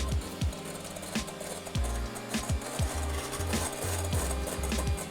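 Eggs are being whisked into stiff egg whites, with a rapid, rhythmic clatter of a whisk striking the bowl, close and fairly loud, with short pauses between runs of beating.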